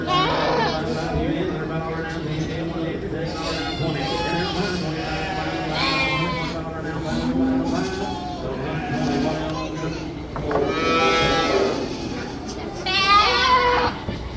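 Goats bleat repeatedly at a livestock auction, several animals calling in overlapping bursts close by, while a person talks over them throughout.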